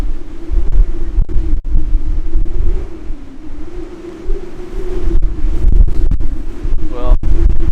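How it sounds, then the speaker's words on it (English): Chilly wind gusts across a cruise ship balcony on Ovation of the Seas in Alaska, buffeting the microphone with loud, uneven low rumbles over a steady hum. "The wind's not terrible. Definitely chilly though."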